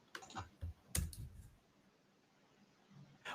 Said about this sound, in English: while you're typing that in